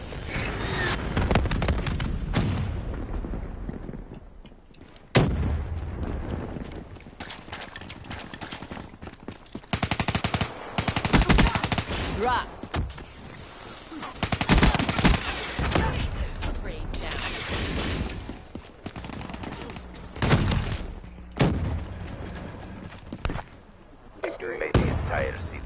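Video game Black Ops 3 multiplayer match with a Hellstorm missile strike and sustained gunfire, dense loud bursts of shots and booms continuing throughout, with players talking over it.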